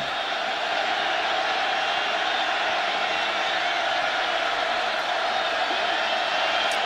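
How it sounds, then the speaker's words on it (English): A football stadium crowd at an Iowa Hawkeyes at Iowa State Cyclones game gives off a broad sustained roar, dense and steady for several seconds with no breaks. "The crowd again roaring"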